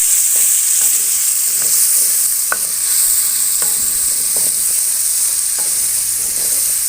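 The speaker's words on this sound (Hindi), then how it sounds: "चिकन हमने अच्छी तरह ब्राउन कर लेना है।" Chicken browning in a pan for chicken karela gives off a loud, steady sizzle, broken by occasional scraping stirs of a spoon, close up with no talking.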